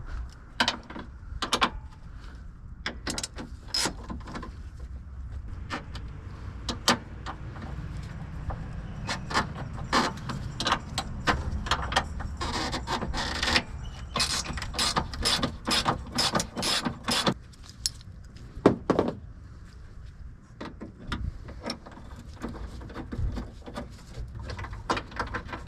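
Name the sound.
13 millimeter wrench loosening radiator bolt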